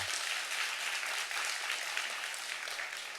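Steady applause from an audience at a Korean youth forum on Silla cultural heritage, filling the room evenly for several seconds without a break.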